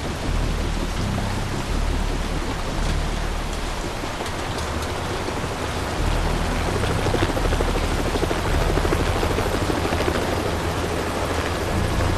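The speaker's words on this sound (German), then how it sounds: "Hubschrauber wird uns abholen." A helicopter in the video game Haze, a dense, steady rotor roar filling the scene at constant loudness throughout, with no talk over it.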